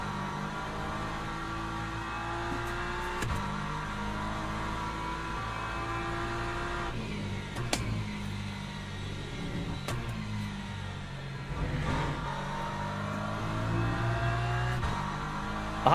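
A race car engine in the video game Le Mans Ultimate on a wet track, droning steadily through gear changes with rising and falling revs, sharp shift clicks and an occasional passing car, close and continuous.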